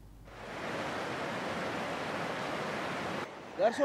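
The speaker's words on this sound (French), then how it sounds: "C'est cette rivière connue sous le nom de Tshisovu" The Tshisovu river flows in a steady broadband rush of water lasting about three seconds, close and even, then cuts off abruptly before a brief voice is heard.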